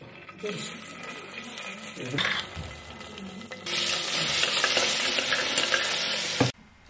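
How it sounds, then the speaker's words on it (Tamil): Steady sizzling of ginger paste frying in hot oil, with stirring scrapes and a louder hiss midway as the pan heats up. "எண்ணெய் ஊற்றிட்டு அரைச்சி வச்ச இஞ்சி பேஸ்ட்"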